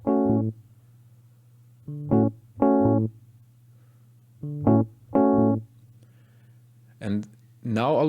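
A short piano rhythm exercise plays as five or six separated chord bursts in an uneven pattern over a constant low hum, followed by brief voiced sounds near the end.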